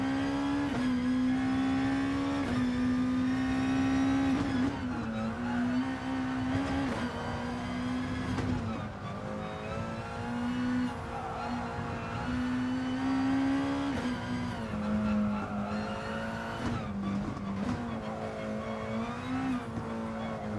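A race car in Gran Turismo drives at speed, its engine droning steadily with repeated shifts and revs rising and dipping over about twenty seconds, loud and close with no talking.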